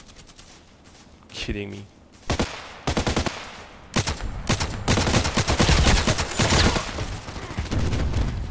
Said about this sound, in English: Oh, shooting already from 200 meters.